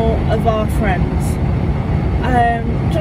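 Steady low rumble of a car interior on the road on the way to the airport, continuous and fairly loud beneath someone talking throughout.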